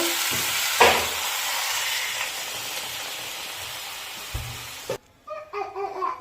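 Water poured into a pan of sautéed vegetable curry made with gourd stems, potato and green banana sets off a loud, close hiss that fades gradually over several seconds before stopping abruptly, followed by faint voices.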